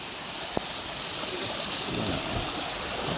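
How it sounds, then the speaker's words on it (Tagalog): Strong floodwater rushes through flooded rice fields after a typhoon in Occidental Mindoro, a steady, hissing roar of current with wind, moderately loud and continuous, with one brief knock. "Yan, sobrang lakas ng agos."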